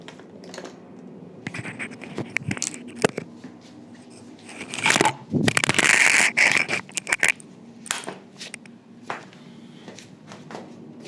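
Writing is wiped off a board in a lecture setting, close scratchy rubbing strokes in irregular bursts with a longer, louder scrubbing stretch partway through, amid light tapping and handling noise.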